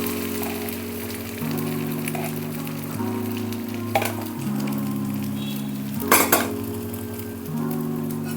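Beaten egg poured into a lightly oiled pan and frying into an omelette, giving a steady, continuous sizzle over a low hum, with occasional soft clinks of a utensil against the pan.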